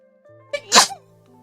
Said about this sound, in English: Bless your sacred sneeze.